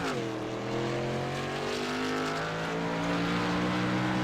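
A race car in a racing game accelerates away from its pit stall after a four-tire stop, the engine note climbing steadily and loud, with no talk.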